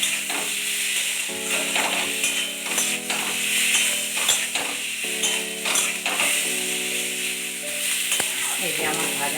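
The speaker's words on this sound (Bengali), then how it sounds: "অল্প করে ভেজে নিয়ে নাড়াচাড়া করে" Ground spices lightly fried and stirred in a pan for rui fish kalia, giving a soft continuous sizzle with frequent scraping and clattering stirring strokes, over a steady tonal hum in the background.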